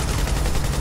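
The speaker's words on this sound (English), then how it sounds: "People shooting!" Rapid gunfire from The Division video game, a dense loud burst of overlapping automatic shots filling the whole short moment.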